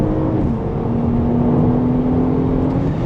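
An Audi S5 Avant accelerates hard to overtake, its engine note climbing steadily into a strong, sustained drone heard from inside the car, with no one talking.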